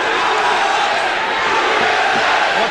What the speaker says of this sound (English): now the crowd chanting USA again for Dan Severn against the Brazilian Royce Gracie